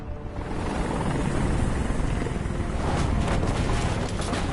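A helicopter in the video game Detroit: Become Human gives off a loud, steady whirring roar of rotor wash that holds evenly throughout, with no voices over it.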